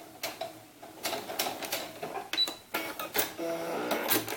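A sewing machine stitches a channel across doll's sunsuit fabric, running in short bursts of quick mechanical rattling with brief pauses between, close and fairly quiet.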